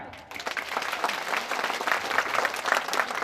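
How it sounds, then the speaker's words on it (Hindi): An audience at a public gathering claps loudly and steadily, a dense, continuous round of applause that swells after a brief quiet start and holds to the end. "उनके लिए जोरदार तालियां।"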